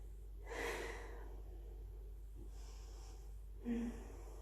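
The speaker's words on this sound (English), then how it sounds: "Take 5 deep breaths." Two slow, deep audible breaths taken during a child's pose in a yogalates session, close and soft, each a breathy inhale-exhale separated by quiet pauses.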